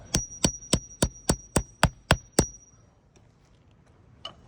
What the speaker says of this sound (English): let's go ahead and just bang this nail out.